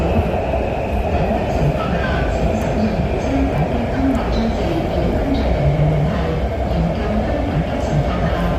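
A Shenzhen Metro Line 20 train runs at speed, filling the carriage with a steady loud rumble and rail roar, with occasional faint squeals and rhythmic wheel clicks. Passengers can be heard talking over it.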